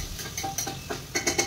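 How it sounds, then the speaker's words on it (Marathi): Cumin and mustard seeds crackle in hot oil as tempering for spiced rice, with sharp, close pops and sizzles breaking out irregularly over a continuous frying hiss. "तर आता टाकलेला आहे जिरे मोहरी"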